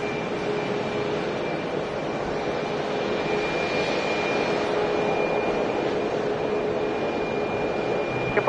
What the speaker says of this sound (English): Next arrival on 4 rights, United Airlines flight 721 coming in from Newark, a 737 MAX 9.